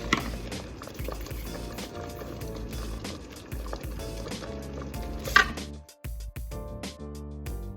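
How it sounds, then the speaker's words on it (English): Roly dumplings dropped into a pot of Jamaican stew peas with chicken, with bubbling and soft plops and clunks from the pot, close by and irregular, followed by a brief quiet gap near the end. "now I'm just going to drop in the roly dumpling"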